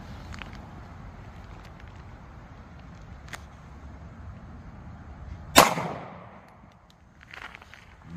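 A 9mm Smith & Wesson Shield pistol loaded with Sig V-Crown ammunition fires one sharp, loud shot into ballistic gel about 15 feet away, the crack fading quickly over quiet outdoor background noise.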